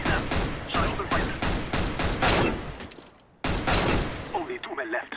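Bursts of gunfire from a Counter-Strike style video game, loud rapid volleys filling most of the clip with a brief drop in the middle, and faint voice-like sounds near the end.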